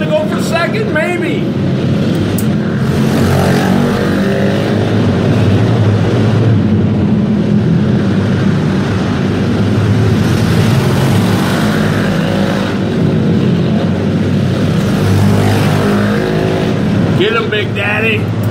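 Race car engines roar steadily around a dirt or slideways racing track, several cars running together with a continuous loud drone and rising revs, while announcers talk over the action throughout.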